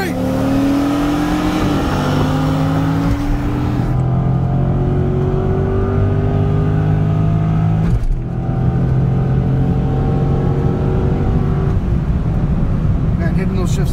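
A Corvette C6 with an LS3 V8 drag races a BMW 335i, loud engines revving hard through rising gear pulls with a sharp shift break, under excited voices at close range.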